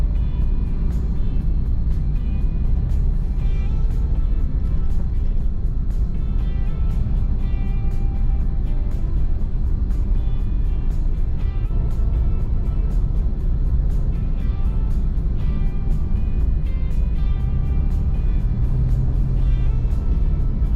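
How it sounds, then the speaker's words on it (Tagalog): Heavy road traffic on the SLEX highway gives a continuous, loud rumble of cars and engines, steady throughout with occasional vehicles passing close by. "Grabe ang traffic oh."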